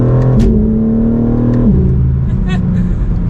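A BMW M4 CSL engine hums steadily with harmonic drone while driving on normal roads, its pitch climbing then dropping sharply as gears shift, loud and close throughout.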